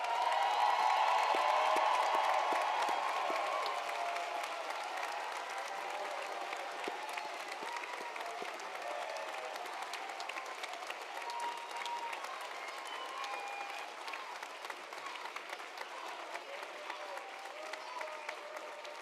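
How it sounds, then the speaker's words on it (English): A large commencement crowd applauds the degree candidates, a dense sustained wash of clapping that swells at first and then settles into a long, even ovation. "Let's give them all a big round of applause."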